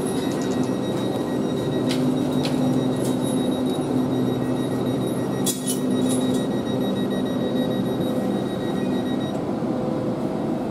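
A GWR Class 800 train departs Swindon station for Bristol Temple Meads with a steady, close rolling rumble and a sustained motor hum. Brief high squeals and clanks come near the start and middle.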